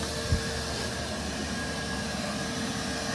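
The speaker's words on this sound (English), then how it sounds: "Start vacuuming that." A vacuum cleaner runs steadily nearby while it sucks honeybees off a barbecue grill, giving a continuous broadband whooshing drone with one brief knock near the start.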